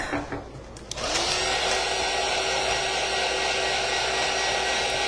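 A small dryer starts up after a moment and then blows a steady, loud whirring hiss, used on a spot of Mod Podge on fall decor crafts, with no talking.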